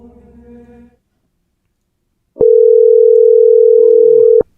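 A loud, steady telephone dial tone sounds alone for about two seconds when a phone line opens to call someone back, cut off abruptly, with a brief stretch of speech and silence before it.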